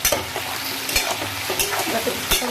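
Potatoes fry in a pan with turmeric and salt, giving a steady close sizzle broken by repeated scraping and stirring strokes, with no talk.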